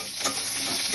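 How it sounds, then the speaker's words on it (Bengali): Papaya and carrot are stirred and fried in a pan, with a brief, steady sizzle and scraping stirring noises up close. "পেঁপে আর গাজরটাকে ভালো করে নাড়িয়ে নিয়ে"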